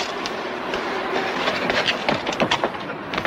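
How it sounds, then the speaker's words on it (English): A train rolling past, a steady rumbling roar with rhythmic clickety-clack of wheels over rail joints building toward the end, no voices. "Let's not miss the train"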